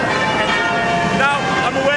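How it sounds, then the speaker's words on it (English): The bells of St. Paul's Cathedral ring out loud and continuous on a London street, a dense, sustained peal with no breaks. "we've been chosen right next to the bells of St. Paul's."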